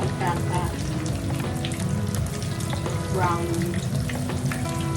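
Tofu frying in a pan, a loud continuous sizzle with bubbling and crackling that holds steady from start to finish.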